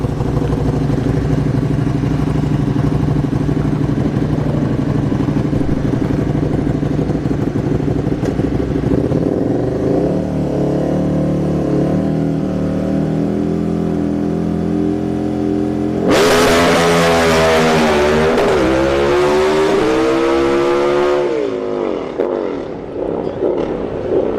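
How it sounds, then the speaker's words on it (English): A KTM motorcycle drag racing at a motorsports park, a loud engine droning and then revving hard through rising gear pulls near the end, with faint commentary underneath. "Got the KTM bike here."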